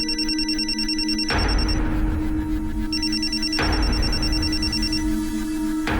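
A repeating electronic phone ringtone plays loudly and steadily in a dramatized crime-show scene, with sustained tonal bursts recurring at an even rhythm over a low, busy background.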